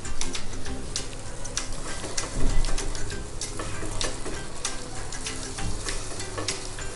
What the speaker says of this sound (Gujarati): આપણે જે બટર લગાવેલું છે એ સાઈડને આપણે અડધી મિનિટ માટે શેકી લઈએ.